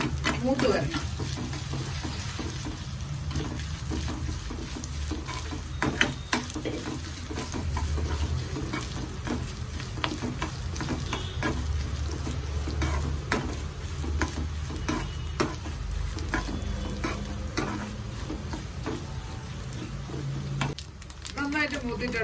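Grated coconut roasting in a pan while being stirred for an erissery, giving a steady sizzle with scraping spoon strokes and a few knocks throughout, with a voice speaking over it.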